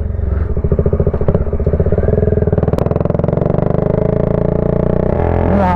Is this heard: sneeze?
no